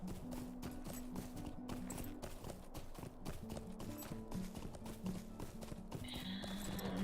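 Horse hooves clip-clopping in the online game The Lord of the Rings Online, a steady quiet trot of rhythmic hoofbeats with a faint tonal drone from the game's ambience.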